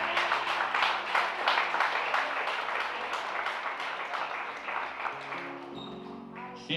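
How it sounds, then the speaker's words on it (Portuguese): A church congregation claps together after a prayer, a fairly loud burst of applause that gradually thins and fades, with faint voices emerging near the end. "Pode aplaudir o Senhor Jesus."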